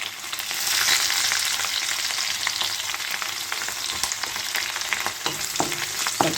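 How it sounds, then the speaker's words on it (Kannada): Curry leaves and crushed garlic frying in hot oil, a dense, loud and continuous crackling sizzle with occasional sharper pops, close up and without any talk. "ಕರಿಬೇವು ಹಾಕೊಳ್ಳೋಣ. ಹಾಗೆ ಬೆಳ್ಳುಳ್ಳಿ ಕೂಡ ಹಾಕೊಳ್ಳೋಣ. ಜಜ್ಜಿದ ಬೆಳ್ಳುಳ್ಳಿ ಹಾಕೊಳ್ಳೋಣಂತ."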